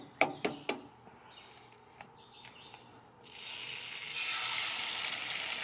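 Eggs dropped onto an oiled hot grill give a few sharp taps, then a steady, loud frying sizzle that swells and holds to the end, with no talk.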